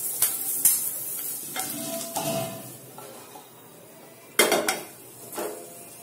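Vegetables with onion sautéing in a pan over a high flame and being scooped out, a soft sizzle broken by sharp clanks and scrapes of a metal utensil against the pan, the loudest knock near the end, with no talk.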